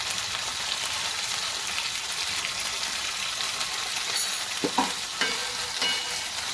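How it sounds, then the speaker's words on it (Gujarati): Cluster beans cooking dry with salt in a pan give off a steady, close sizzle, with a few metallic clinks of a spoon stirring near the end. "આપણે થોડુંક ચલાવી અને ઢાંકી અને થોડી વાર માટે આપણે આને સોફ્ટ થવા દઈશું."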